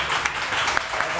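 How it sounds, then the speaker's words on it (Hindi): Studio audience applause on a live Pakistani morning television show, a brief burst of many hands clapping in a dense, bright patter with a few sharper claps standing out. "या तालियां तालियां।"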